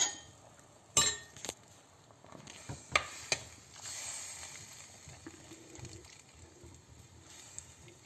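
Mango pieces stirred into a drumstick curry in a pot for a Kerala prawn curry with jackfruit seeds and dried drumstick, with a sharp clink of spoon on the pot and a few scraping knocks over a low, quiet simmer.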